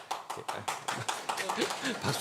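A short burst of rhythmic hand claps at a church service, sharp and evenly spaced at first, then giving way to a voice speaking over the room.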